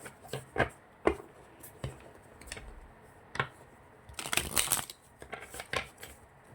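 Tarot cards are shuffled by hand in a quiet room, giving a string of soft, irregular riffles and slaps with brief pauses between them and one longer flurry of shuffling near the end.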